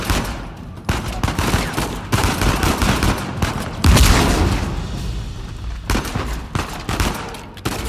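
Shotgun fire and other gunfire in the video game Uncharted 4, played on hard difficulty: loud, dense bursts of blasts and booms repeating over about eight seconds in a busy firefight.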